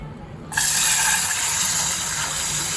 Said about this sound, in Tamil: இப்போ இந்த மோரை வந்து முதல்ல இதில் ஊற்றிடணும்